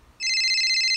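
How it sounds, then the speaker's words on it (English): A phone rings with a bright electronic ringtone that starts abruptly after a short quiet moment and holds steady and loud to the end, with no talking. "my phone's ringing."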